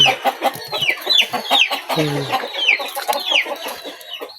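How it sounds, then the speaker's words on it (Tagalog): Pigeons coo and chirp in quick, overlapping calls close by, and a person briefly says a word. "Ito yung mga kalapati namin."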